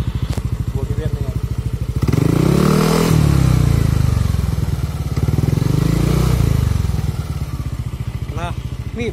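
Standard-exhaust motorcycle idling with a steady low putter, then revving twice in long swells around 2-4 s and 5-7 s before settling back to idle, loud and close.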